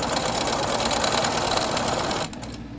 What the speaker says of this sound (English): And then I sew it.